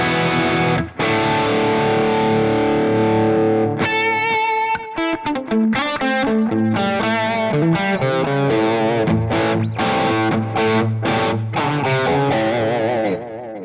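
Electric guitar played through the Tonex Lerxst Omega amp model on its Dark Crunch setting: chords and single-note lines with a crunchy, moderately distorted tone and a slight chorus shimmer, loud and continuous with no talking.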